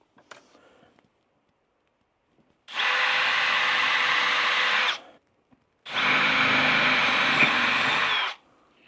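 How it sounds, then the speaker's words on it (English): A power drill bores a hole with a drill bit while building a homemade camera flash box, running in two steady loud bursts of about two seconds each, separated by a short pause, with no talking. "we need to get a drill bit the same diameter as that,"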